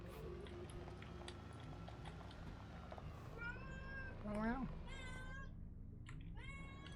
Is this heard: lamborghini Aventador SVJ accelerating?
no